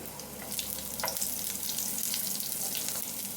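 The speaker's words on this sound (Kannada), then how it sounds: "ಸ್ವಲ್ಪ ಸಾಸಿವೆ ಕರಿಬೇವು ಮೆಣಸಿನ್ಕಾಯಿ ಆ್ಯಡ್ ಮಾಡ್ಕೊಳ್ಳೋಣ ಈಗ ಈರುಳ್ಳಿ ಆ್ಯಡ್ ಮಾಡ್ಕೊಳ್ಳೋಣ" Onion frying in hot oil with mustard seeds, curry leaves and green chillies, a dense continuous sizzle close up with a few light stirring scrapes, no talking.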